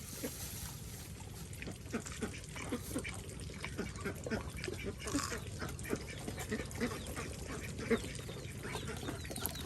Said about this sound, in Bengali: এই দেখুন কত হাঁস।